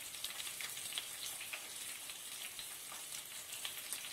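Dried red chilies and curry leaves sizzle in hot frying oil for egg fried rice, a faint, steady crackling hiss with scattered small pops and no voices.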